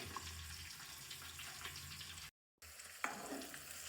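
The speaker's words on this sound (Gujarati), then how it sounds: "તો મિત્રો આપણે જે મરચાં ફ્રાય થઈ રહ્યા છે, આટલા તેલમાં જ આપણે મરચાં ફ્રાય કરવાના રહેશે" Green chillies frying slowly in a small amount of oil over low heat make a steady, close sizzle with a crackly hiss, briefly cut to silence partway through, then resume with a sharp pop.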